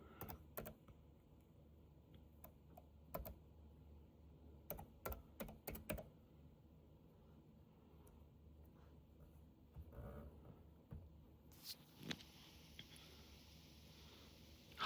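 Scattered bursts of typing on a Windows 11 computer keyboard, quick soft clicks in short clusters separated by pauses, close and quiet in a still room.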